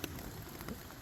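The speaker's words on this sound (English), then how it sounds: "I just got downpour." Heavy rain pours down on a hiking trail near Marion, Virginia, a dense steady hiss of drops hitting the ground and gear all around, close and constant for the whole moment with no one talking.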